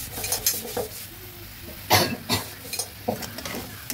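Vegetables with turmeric powder and salt being stirred in a pan, a spoon clanking and scraping against the metal in uneven bursts over a faint sizzle.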